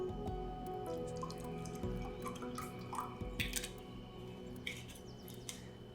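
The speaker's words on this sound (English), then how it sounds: "And I fill it halfway with water." Mountain Valley spring water poured halfway into a drinking cup, heard as faint, close dripping and trickling splashes over a steady low background hum, with no talking.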